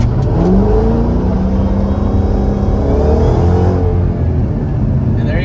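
Drag car with a BMR panhard bar launching off the line on a test pass, a loud, close roar of acceleration with the engine pitch climbing and then leveling as it pulls away.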